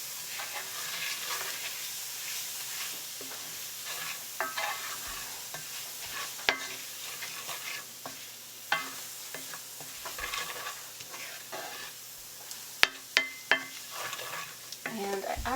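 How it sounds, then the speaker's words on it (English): Butter chicken being stirred in a pan: a soft, low sizzle runs underneath while a utensil scrapes and taps the pan every so often, with a few sharper knocks near the end, fairly quiet and close. "I'm going to stir that in."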